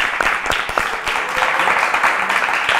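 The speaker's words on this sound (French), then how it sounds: "ce que j'ai envie de faire en commençant, c'est d'applaudir pour saluer ce travail" A studio audience on a French talk show applauds, a dense, continuous round of clapping with a few sharper individual claps standing out, fairly loud and close, with no talk over it.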